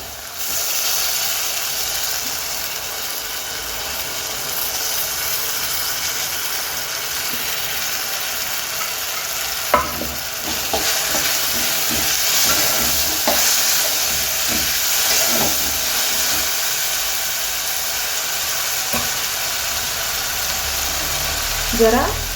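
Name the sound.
soaked dal added and stir-frying in pan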